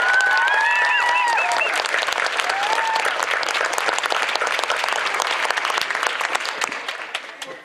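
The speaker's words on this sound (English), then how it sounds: "A big round of applause for that group" A large crowd at a cosplay contest at a comic convention breaks into sustained applause, with scattered cheers and whoops early on, the clapping thinning slightly toward the end.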